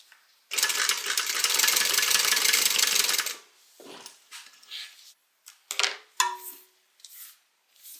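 A sewing machine top stitches along both sides of an opened bag seam, one steady burst of about three seconds of fast needle rattle, followed by quieter handling knocks and short clicks nearby.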